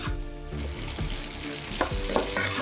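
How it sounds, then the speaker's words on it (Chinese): Green beans stir-fry in a wok, dry-fried until soft, with steady crackling sizzle broken by repeated scraping strokes of a spatula, close and fairly loud throughout. "把豆角放进去，我们要不停的翻炒"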